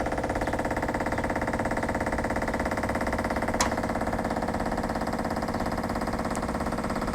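A Corvair engine runs at a steady idle while its carburetor float chamber fills with fuel, giving an even, continuous mechanical hum with a fast regular pulse, close and unchanging throughout, with one brief faint click partway.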